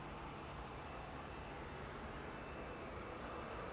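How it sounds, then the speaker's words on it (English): A Boeing 737-800 with retrofitted winglets arrives at East Midlands Airport, its engines a constant broad roar held at a steady level throughout, with no voices. "It's one of 737-800 with those retrofitted winglets there."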